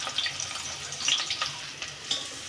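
Chopped onion and bay leaf frying in hot oil for pulao, a soft, steady sizzle with occasional clicks of stirring, fairly quiet and close, with no voices.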